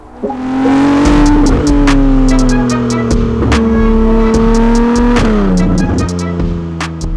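A Novitec Ferrari 296 GTS N-Largo Spider, an 868 hp widebody supercar, revs hard up through the gears close by, its engine note rising and dropping at each quick shift, loud and alone.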